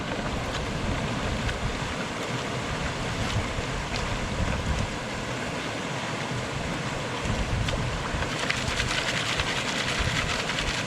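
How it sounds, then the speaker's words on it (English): Rocks and gravel being washed and swirled in a gold pan in water outdoors near old mine workings, a steady broadband wash of water under wind noise across the whole stretch, with no talking. "So we're doing some more panning here."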